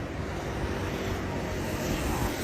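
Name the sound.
J18 dual-camera drone taking off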